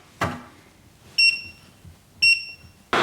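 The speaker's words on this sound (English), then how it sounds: "Now, the overload alarm is going off with our first test." Overload alarm on an OSCAL PowerMax 1800 SE portable power station, triggered by an electric kettle. It sounds as short, loud, high electronic beeps repeating about once a second, close by, with a click or thump just before.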